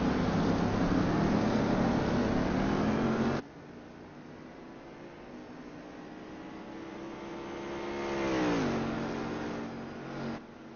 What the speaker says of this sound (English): looking at the number 26 car now as he comes down into La Source